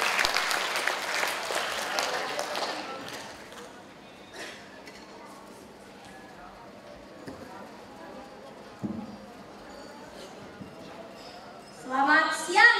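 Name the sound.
audience applause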